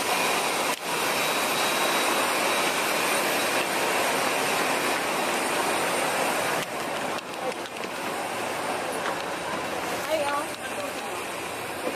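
Airplane jet engines drone through the cabin of a flight to El Nido, Palawan, a loud, continuous broadband roar with an announcer's voice faintly over the noise.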